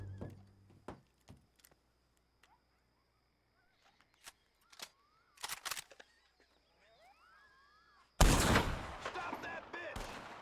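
A shootout in Red Dead Redemption 2: scattered single gunshots crack out over several seconds, some far off and some close, then a loud, sustained burst of heavy gunfire erupts near the end.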